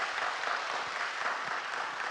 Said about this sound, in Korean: 큰 박수 한번 더 부탁드립니다